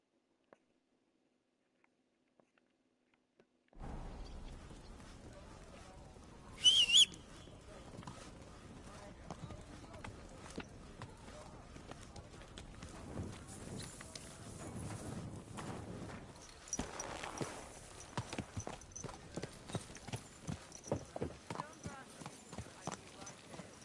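Horse hooves clip-clop steadily at a walking pace in Kingdom Come: Deliverance II, soft and rhythmic throughout, with a brief louder rustle early on and speech heard alongside.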